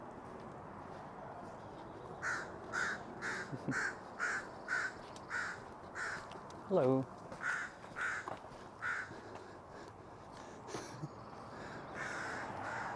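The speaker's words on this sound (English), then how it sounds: "There's like 2 or 3 crows over there" Two or three crows cawing loudly nearby in an arboretum park, a rhythmic run of repeated harsh caws with short pauses, later answered by sparser calls; a person briefly says a word.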